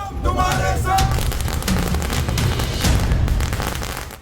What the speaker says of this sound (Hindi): सड़कों पर फूटती पटाखों की ये लड़ियां,